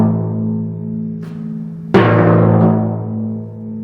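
A timpani left ringing after being dampened too far back from the playing spot: a low sustained drum tone continues, then a fresh sharp stroke lands near the end and rings on loudly, with no voices.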